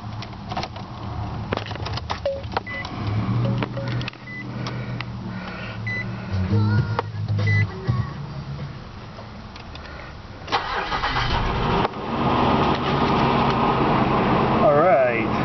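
A 2002 Nissan Frontier pickup cranking and firing up at a dealership, starter whir followed by the engine catching and settling into a steady idle, with people talking nearby over the running motor.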